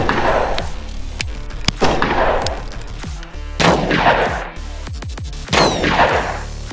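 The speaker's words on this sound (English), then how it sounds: "So now we're gonna try this with some 9mm plus P civil defense, 2000 feet per second." Four loud, sharp gunshots of 9mm +P Civil Defense ammunition fired at body armor, spaced a second or more apart, each with a ringing, echoing tail, close and alone.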